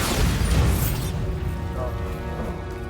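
A Bombarda blasting spell in Hogwarts Legacy lets off a loud, booming explosion up front, followed by a crackling, ringing decay as debris settles.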